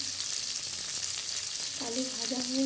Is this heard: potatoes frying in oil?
yes